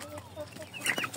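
An Indio Gigante rooster or hen in a coop gives a short, faint burst of soft clucks and a slightly louder squawk near the end.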